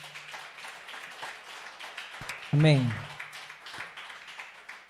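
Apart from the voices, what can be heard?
applause and clapping in church congregation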